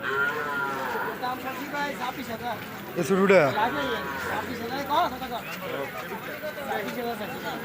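Cattle lowing at a busy cattle market, a few deep moos rising over a steady murmur of nearby voices haggling, with one louder bellow midway and crowd talk running throughout.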